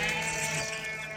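Close by, a Tatali breed sheep gives one sustained, wavering bleat, steady and clear with no talking around it.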